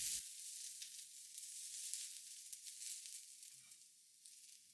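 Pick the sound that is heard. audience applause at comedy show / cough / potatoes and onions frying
potatoes and onions frying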